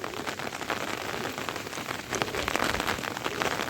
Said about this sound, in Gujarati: વરસાદ જ એવો આવી રહ્યો છે.